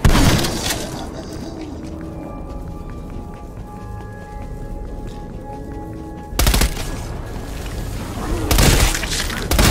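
Frag grenade thrown at a zombie in Call of Duty Cold War, heavy bursts and crashes of explosion amid rapid gunfire and running, with loud blasts near the end and no speech.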